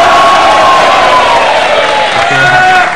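A television studio audience on a talk show cheers, whoops and shouts in a continuous loud roar, with some clapping mixed in, filling the whole moment.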